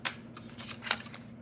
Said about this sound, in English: Y'all heard me shuffle.